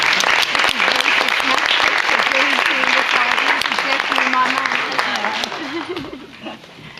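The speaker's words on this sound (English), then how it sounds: "Give them a round of applause" A studio audience gives a loud, sustained round of applause for quiz contestants on stage at a number-crunching grand champion round, and a voice talks over the clapping before it thins out near the end.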